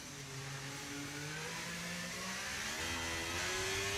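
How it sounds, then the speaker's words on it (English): F1 car engine in the F1 25 racing video game, a continuous whining drone with rising and shifting pitch as revs change, steady and fairly quiet throughout, with no talking. "my engine sounds so much louder than last race already"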